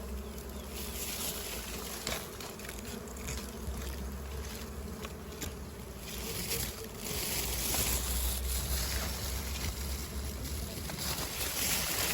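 Bees swarm around their nest with a continuous, close buzzing drone that swells louder toward the end, over a mango-bagging outing outdoors; no talk stands out.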